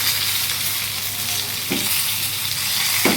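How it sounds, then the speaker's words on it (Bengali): Fish sizzling hard in hot oil in a pan, fried very crisp with a spice coating that has charred; a steady, close frying hiss runs throughout, with two brief louder crackles, and no voices. "মাছটা আমি খুব কড়া করে ভেজে নিয়েছি"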